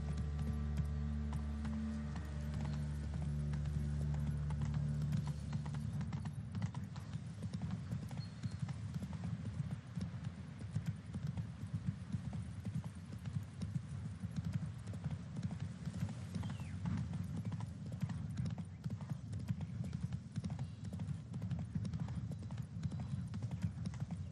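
A horse gallops in The Witcher 3: Wild Hunt, with rapid rhythmic hoofbeats drumming steadily and continuously at close range and a low rumble underneath.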